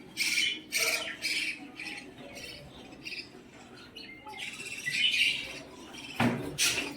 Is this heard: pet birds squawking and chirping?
yes